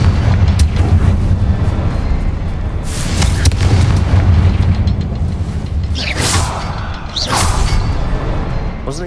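Confringo spell explosion in the video game Hogwarts Legacy, loud booming blasts over a dense rumbling game soundscape, with a couple of sharp bursts toward the end.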